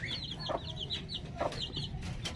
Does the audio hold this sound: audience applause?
no